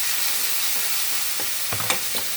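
Chopped onions and peppers tumble into a pan of smoky sloppy joe meat and sizzle under a steady bright frying hiss, with a few stirring clatters near the end and no talking.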